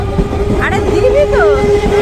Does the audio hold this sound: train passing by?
yes